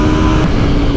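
An Aprilia RSV4 Factory, a 2021 sport motorcycle, runs on the road with its engine giving a loud, close, continuous drone and no voices on top.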